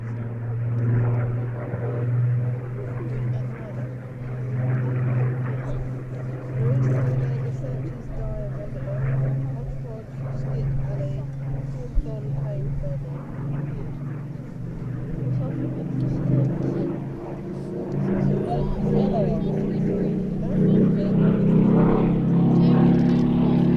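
Supermarine Spitfire flying at an airshow, its propeller engine a steady loud drone that swells and holds throughout, with a commentator talking over it.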